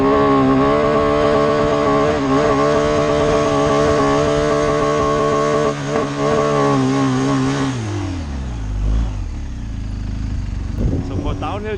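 Off-road motorcycle engine running loud and steady during a downhill riding lesson, a sustained harmonic drone that drops in pitch near the end as the rider engine-brakes, with the engine close by throughout.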